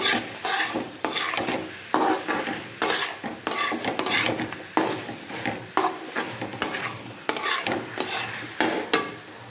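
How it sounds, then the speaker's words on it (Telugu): Chicken tossed with pepper, garlic and spice powder in a pan gives repeated scraping stirs of a spoon against metal at a steady rhythm, with a soft sizzle running underneath. "చేసుకున్న పొడంతా బాగా కలిసేటట్టు మనం బాగా కలుపుకోవాలి చికెన్ని"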